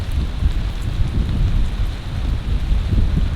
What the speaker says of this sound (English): So the storm is coming.